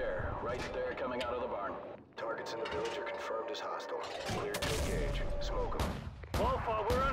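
AC-130 gunship cannon fire pounding a village in Call of Duty: Modern Warfare, with repeated heavy booms and bursts that keep coming under steady radio chatter.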